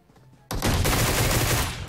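Groza rifle fire in PUBG Mobile, a sudden loud burst of rapid automatic shots starting mid-clip after quiet and continuing to the end.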